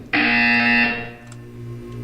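Loud electronic buzzer from the Portal 2 video game, one steady harmonic tone held for about a second before cutting to a quieter hum.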